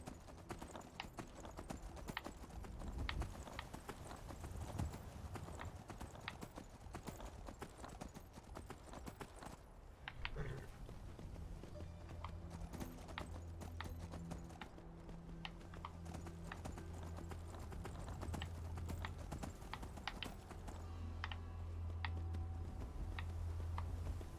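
Horse hooves clip-clop in a steady walking rhythm in Skyrim, with brief faint voices and a low background tone.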